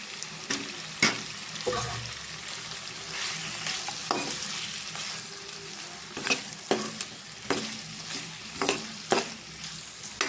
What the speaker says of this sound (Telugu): ఇప్పుడు దీంట్లో చికెన్ వేస్తున్నానండి